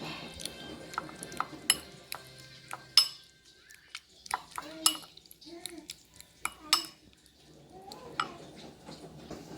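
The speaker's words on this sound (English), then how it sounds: "so let's mash these babies up" Boiled potatoes are mashed in a bowl with a metal utensil, giving irregular clinks, knocks and scraping taps against the dish, some sharp and bright, over a quiet kitchen background.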